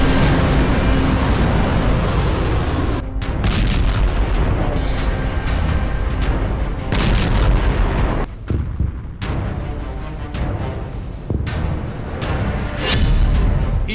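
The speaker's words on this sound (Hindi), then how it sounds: "कतर में अमेरिकी बेस पर ईरान का बैलिस्टिक अटैक।" Ballistic missile strike on a US base in Qatar, heavy rumbling booms and roaring blasts in a loud dense barrage with brief dips, distant-sounding and continuous, no speech.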